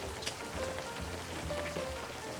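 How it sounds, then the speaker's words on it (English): Rain in the fishing game Webfishing, a soft steady patter of drops on a surface that stays quiet and even throughout, with no talk. "Almost out of range of the rain."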